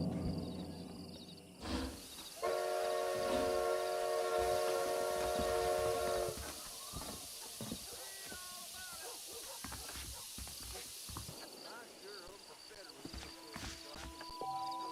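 A steam-era train in Red Dead Redemption sounds a long, loud whistle tone for several seconds, then rumbles and clatters on the rails with scattered knocks, while voices talk at times.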